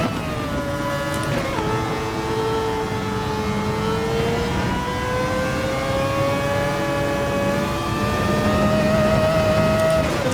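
Race car engine in a Gran Turismo race at Spa, loud and continuous, climbing and falling in pitch through gear changes with sustained high revs throughout.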